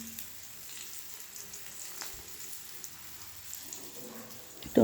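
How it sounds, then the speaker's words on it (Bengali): Pointed gourd pieces frying in a pan make a soft, even sizzle with light crackling that stays at a low level, with a short knock right at the end and no talk. "এই যে পটল ভাজছি"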